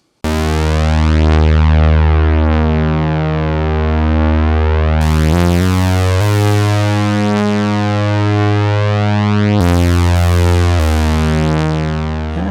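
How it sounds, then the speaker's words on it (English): A sustained electronic tone from a KORG ARP2600M analog synthesizer with rich buzzing harmonics shifts pitch in steps, a metallic spring reverb tail ringing around it. "let's introduce some spring reverb. It's kind of juicy."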